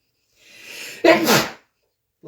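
A single sneeze during a live haunted-anniversary stream: a soft rising inhale followed by one sharp, loud, close burst that fades quickly, then brief quiet.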